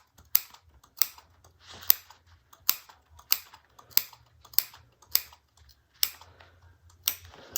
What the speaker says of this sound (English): Let me put those little snips in the curve.